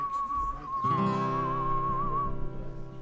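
A steady, sustained whistle holds one high pitch for about two seconds and wavers slightly before stopping, with a lower droning tone and background noise beneath it at a gathering at Bob's.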